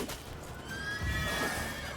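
A horse neighs in The Witcher 3, a clear whinny with a wavering pitch that rises and holds over game ambience and low rumbling hoofbeats, close and fairly loud.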